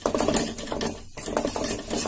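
Spice mixture being stirred in a pan, a steady scraping and rustling that pauses briefly midway before carrying on, close by.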